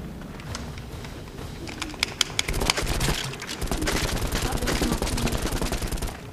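Gunfire in GoldenEye 007 Wii multiplayer, scattered single shots building into rapid machine-gun bursts, loud and rhythmic, with faint voices in the background.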